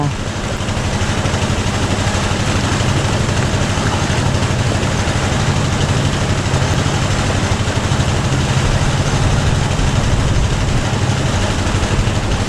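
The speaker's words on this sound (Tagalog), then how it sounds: "Galit na galit yung makina." A water pump engine runs hard at full throttle while filling a field, a loud constant low rumble and chugging drone that never lets up.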